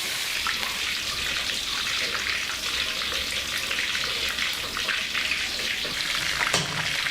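Minced pork wrapped on lemongrass skewers, seasoned with sawtooth coriander, ginger and salt, sizzles and crackles steadily in hot frying oil, a dense continuous hiss with scattered pops throughout.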